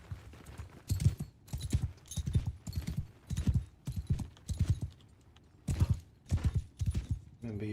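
Horses gallop across a battlefield in the video game Mount and Blade II: Bannerlord, loud rhythmic hoofbeat clusters pounding in repeated bursts with brief pauses, close and dominant.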